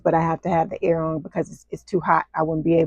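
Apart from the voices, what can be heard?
No everyday noise stands out behind the speech.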